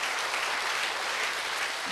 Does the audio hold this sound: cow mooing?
no